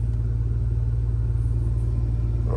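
A truck's auxiliary power unit runs steadily at a ramp while the rig waits. Its low mechanical drone holds a constant pulsing hum, loud and close, with no voices over it.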